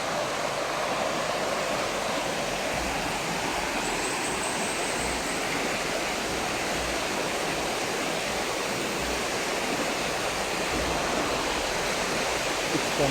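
Steady broadband rush of water flowing in a flooded creek, continuous and fairly loud throughout with no talking.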